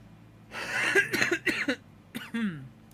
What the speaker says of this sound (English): that cough sounds bad